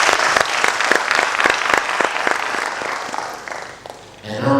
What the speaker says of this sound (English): let us give a round of applause to the presenter